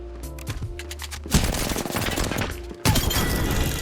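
Rapid automatic gunfire bursts in the Apex Legends video game, loud and close, with sustained volleys and a brief pause before another burst of shots.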